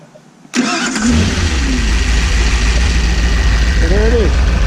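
A 327 stroker engine on a custom test stand cranks and fires abruptly after a short quiet moment, then settles into a rough, uneven idle, loud and close.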